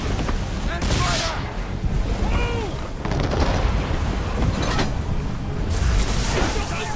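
Naval cannon fire during a sea battle in Assassin's Creed III, booming repeatedly in a dense, continuous barrage of blasts mixed with shouting and battle noise.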